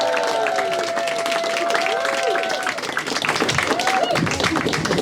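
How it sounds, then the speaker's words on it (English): Audience applause and cheering for comedian Phil de Lange at a comedy competition heat, steady crowd clapping throughout with whoops and a host's voice carrying over it. "please put your hands together, raise a wreath, and give loads of love for Phil de Lange"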